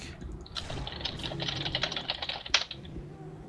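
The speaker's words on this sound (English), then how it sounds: "Who are you typing to?" Quiet, rapid clicking of computer keyboard keys being typed during a World of Warcraft session, an irregular patter with one sharper keystroke near the end and no voices.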